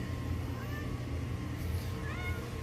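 A pet cat meows near an aquarium sump setup, a soft drawn-out call heard twice over a steady low hum of pumps and running water.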